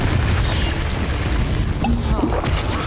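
Confringo fire spell exploding in Hogwarts Legacy, a dense rumbling boom that fills the whole moment with a crashing burst, loud and close.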